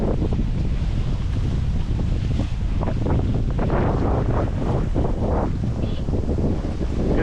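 A sailboat under sail with its motor off in light wind, heard as steady, loud wind buffeting across the microphone over the wash and slap of waves against the hull, continuous throughout with no talk.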